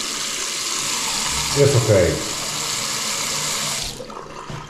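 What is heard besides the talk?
water running from newly installed tap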